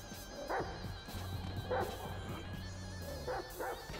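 Dog barking in GTA 5 gameplay, three short yelping barks spaced about a second apart over a steady low game soundscape, with no talk.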